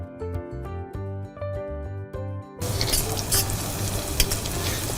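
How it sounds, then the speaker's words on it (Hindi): Garlic and royal cumin (shahi jeera) frying in oil in a pan, a loud, dense, crackling sizzle that starts abruptly after a stretch of background music and carries on steadily, close up. "हल्का सा ये जैसे लहसुन फ्राई हो गया तो थोड़ा सा हम ये शाही जीरा है,"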